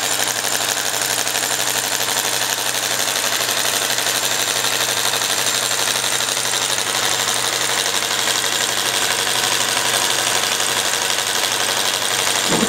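A compressed-air powered V8 engine runs steadily for the whole stretch, a loud, close, continuous mechanical clatter with an even idle-like rhythm and no talking over it.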